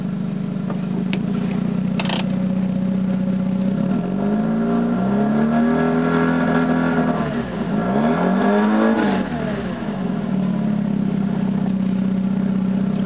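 Mazda 12A rotary engine after a cold start, idling and then revved up twice in quick sweeps before settling back to a steady idle, loud and close with no talk.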